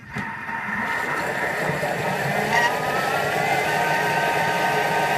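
A Thermomix blends butternut squash purée with salt and pepper at speed 6, a steady loud motor whir with a rising tonal whine, running continuously close by.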